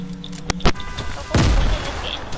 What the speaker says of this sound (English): they're chucking grenades at us